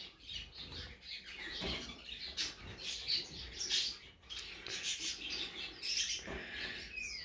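Hybrid Java sparrow and silverbill finch chirping in a cage, a busy run of thin, high tweets and short squawks scattered over several seconds, close by with no talk.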